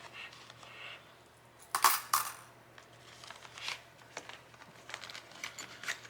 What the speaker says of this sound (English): So let's get these coins out of here.